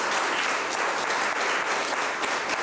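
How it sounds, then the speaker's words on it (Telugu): Steady, dense applause from a seated audience at a Shakti Peetham temple trust member's induction ceremony, loud and continuous throughout with no pauses. "మరొకసారి మీరందరూ గట్టిగా చప్పట్లతో"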